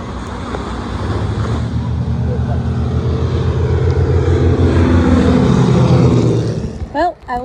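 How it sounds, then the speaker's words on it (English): A loud, steady roar of a low-flying plane passing overhead at Maho Beach, with wind buffeting the microphone throughout and a brief voice at the end. "got the shot of an aeroplane going over my head"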